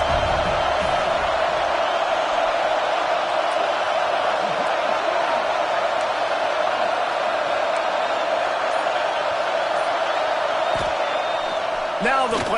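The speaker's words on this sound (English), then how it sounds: "Listen to this crowd just shaking the girders of this place, trying to help their defense." A stadium crowd roars steadily and loudly throughout, a dense sustained wall of voices urging on their defense, with faint sharper shouts rising at moments.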